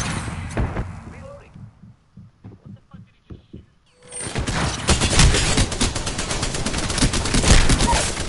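Gunfire in the Apex Legends video game: a stuttered run of single shots, then a loud, sustained burst of rapid automatic fire fills the second half, with a player's voice nearby.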